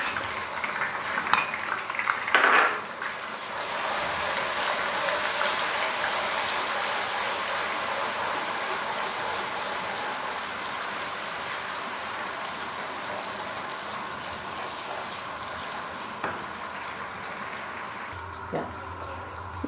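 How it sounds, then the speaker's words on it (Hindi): Ginger garlic paste, three tablespoons, fries in hot oil, giving a steady broadband sizzle through the clip with a few utensil clinks early on and near the end. "अब मैं डालूँगी अदरक लहसुन पेस्ट 3 टेबलस्पून और इसे अच्छी तरह से भून लूँगी।"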